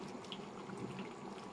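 A little water added to chicken cooking in a pan, giving a faint, short splash and sizzle with no talk.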